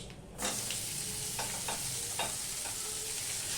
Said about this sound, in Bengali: পাঁচ ফোড়নটা হয়ে গেলে আমি এখানে পেঁয়াজ দিয়ে দিলাম